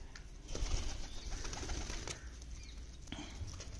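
Soft, low cooing from pigeons nearby as they feed on grit from a tray, with occasional wing flutters and light shuffling in a quiet setting.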